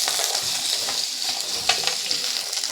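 Potatoes and papaya fry with lentil dumplings in a hot pan, a steady dense sizzle broken by a few stirring scrapes, close and continuous, with no voices.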